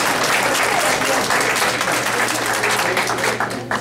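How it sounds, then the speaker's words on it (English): Audience applause at a college student support services celebration day, a dense, steady clapping from a crowd that fills the room at full strength and fades slightly at the end. "let's give him a big round of applause"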